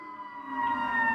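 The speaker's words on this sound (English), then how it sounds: "if there's a police car or a fire truck or something going by, they will sound their sirens," An emergency siren, a police car or fire truck, wails in a steady, sustained tone that swells slightly louder over about a second, heard fairly close with no talk over it.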